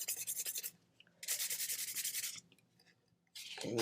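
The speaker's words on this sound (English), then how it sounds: "I am just going to lightly and gently sand it." A cured epoxy coat on a tumbler lightly sanded by hand with 320 grit sandpaper, rapid rhythmic scratchy back-and-forth strokes in bursts of about a second, close up, with short pauses between passes.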